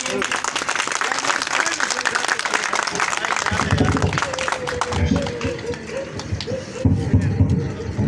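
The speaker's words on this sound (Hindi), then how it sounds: "मैं उनसे दरख्वास्त करूंगा आपकी तालियों की गूंज में" An audience at a gathering applauds to welcome chairman Shahid Hussain Qureshi, a dense patter of claps at first that thins as a voice begins speaking over the fading applause.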